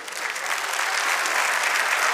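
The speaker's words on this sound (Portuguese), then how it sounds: "Vamos aplaudir isso." Inside a church, the congregation bursts into sustained applause that builds slightly and holds as a full, bright wash of many hands clapping together.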